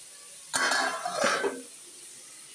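A lid is set on a pot of kofta curry, giving a couple of quick close metallic clinks and a short rattle that then fade out.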